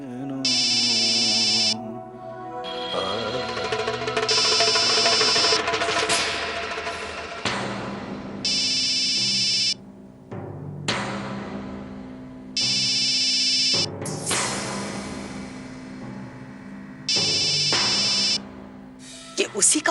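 A mobile phone rings with a repeating electronic tone in regular bursts, loud and close, while people talk over it and dramatic music plays underneath.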